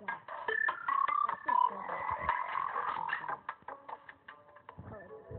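Grasshopper creatures in the Terraria video game make a run of odd, chirpy croaking calls, several clipped bursts in quick succession over faint game sound, loudest early and thinning out toward the end.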